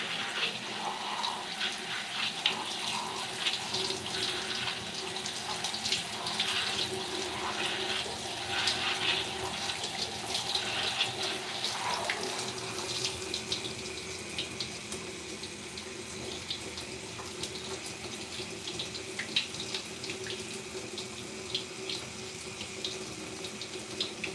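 Tap water runs steadily while curly hair is rinsed during a wash day, a continuous splashing hiss that shifts in tone partway through as the stream strikes differently, close and unbroken.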